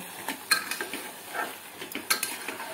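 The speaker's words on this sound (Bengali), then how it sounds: "চিনিটা দিয়ে আমি মিডিয়াম ফ্লেমে রেখে এটাকে আবারও নেড়ে নেব" Carrot halwa with sugar is stirred in a pot, giving a few soft scraping strokes and metallic taps over a faint sizzle, close and brief with no talk.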